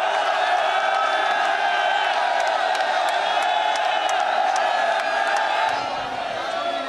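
A huge crowd at a political rally in Lahore shouts and cheers in one continuous, loud, dense roar that holds steady throughout and eases only slightly near the end.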